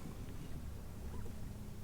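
A canoe resting on open water, with a soft, steady low wash and gentle rippling under light wind noise, quiet and continuous with no voices.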